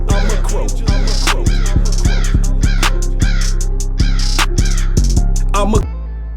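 A crow caws loudly and repeatedly in a close, rhythmic series of harsh calls, with no talk, before the sound cuts off abruptly at the end.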